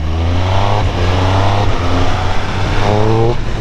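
Triumph Speed Triple 1200 RS motorcycle accelerating hard on a slippery road, its engine note rising and steady close up, with harmonics climbing in repeated pulls alongside constant wind roar.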